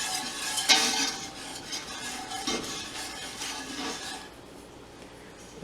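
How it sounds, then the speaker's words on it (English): A whisk beats vinegar in a measuring cup for a cucumber, pepper and celery relish, with brisk clinking and swishing that starts strongly and fades to a quieter, softer stir. "I'm going to add a 1/2 cup at a time. So I'm just going to add a 1/2 cup, and then I'm going to whisk this up."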